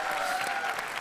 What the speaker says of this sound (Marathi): जोरदार टाळ्या त्यांच्यासाठी एकदा वाजवा.